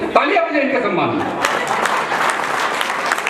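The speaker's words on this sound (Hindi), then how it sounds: "तालियां बजाइए इनके सम्मान में।" A crowd bursts into dense, sustained applause, many hands clapping together, loud and close, with a voice speaking briefly at the start.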